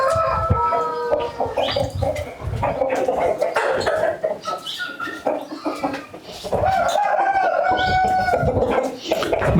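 Roosters and country chickens at a native poultry farm cluck continuously and close by, with occasional crowing calls rising over a dense flock, while people talk intermittently throughout.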